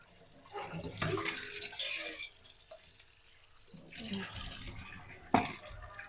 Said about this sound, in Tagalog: hugasan na natin kasi kahiwain ko na